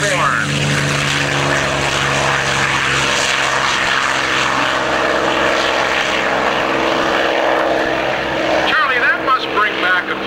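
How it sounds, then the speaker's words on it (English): P-51 Mustang propeller plane flying past at an outdoor airshow, a droning piston-engine hum with shifting pitch as it moves overhead, heard under a commentator's ongoing announcement over the loudspeaker. "here comes the B-51 Mustang"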